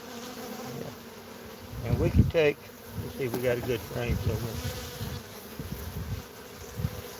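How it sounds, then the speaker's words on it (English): Large bees and drones hum and buzz around an open beehive during a beekeeping visit, a constant close swarm drone under people talking. "They're big bees today."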